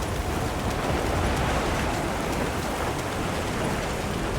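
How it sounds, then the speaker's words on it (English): Heavy rain in the video game Monster Hunter Wilds pours down steadily in a dense, unbroken hiss with no voices, loud and close throughout. "The rain's really coming down."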